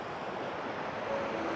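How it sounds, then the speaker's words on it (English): Steady wind of about 15 mph rushes across Lake Michigan in a constant broadband roar, with waves washing faintly beneath and no voices. "It is pretty windy out here."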